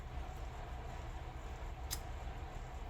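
One crisp scissor snip cuts a small piece of card paper, faint and short against a quiet room hiss, with no talking.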